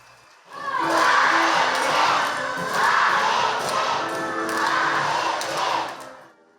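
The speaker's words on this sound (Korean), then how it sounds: "어린이들은 신기한 마술 공연에 환호성과 함께 박수갈채를 보냅니다." A crowd of children cheers and shouts excitedly at a magic show in a church hall, with loud, sustained whoops rising and falling in waves across the whole stretch.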